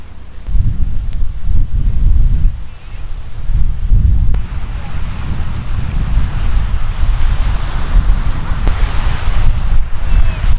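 Wind gusts and rolling surf at a beach, with constant buffeting microphone wind noise over the low roar of breaking waves throughout.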